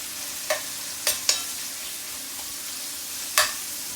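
Artichoke pieces cooking over high heat in a pan for tagliolini, an even background sizzle broken by a few sharp clinks and scrapes of a utensil stirring, close and without voices.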